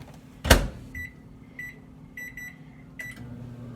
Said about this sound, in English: The lid goes on and it is going into the microwave